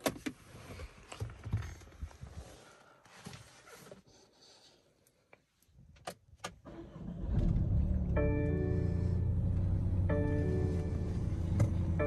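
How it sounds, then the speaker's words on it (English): A 2021 BMW 218i Gran Coupe engine cranks and starts with the door closed, heard from inside the cabin after some quiet rustling, then settling into a steady, muffled idle hum. "let's start the car with the door closed"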